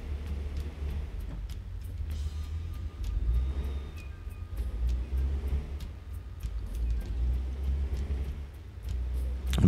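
A truck's engine drones low and steady while driving in American Truck Simulator, a quiet, muffled rumble with faint clicks and small swells in level, and no talking.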